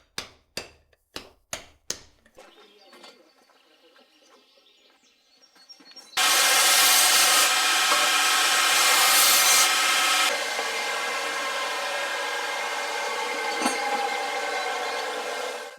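A farrier trims and rasps a horse's overgrown hooves: a few sharp knocks at the start, then a loud, steady, coarse rasping that scrapes on without a break until the end.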